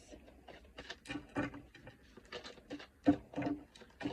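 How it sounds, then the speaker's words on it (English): Steady patter of rain with irregular soft taps and drips, moderately quiet, no voices. "Pouring with rain outside"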